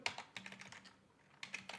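A new computer keyboard being typed on, with two close bursts of light, quick key clicks separated by a short pause.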